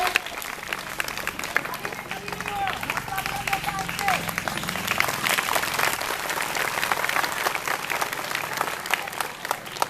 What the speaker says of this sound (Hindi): तो जोरदार ताली संजना के लिए।